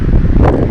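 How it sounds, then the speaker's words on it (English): Wind gusts buffet the microphone in a cemetery, a loud, close, low rumbling roar that surges briefly and then dips. "it's very windy as well"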